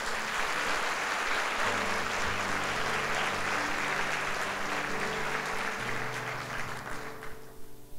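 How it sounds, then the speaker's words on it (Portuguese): A church congregation at a Sunday service applauds in a long, full, steady burst over sustained organ-like music, the clapping fading out near the end. "Pode dar um aplauso a Jesus."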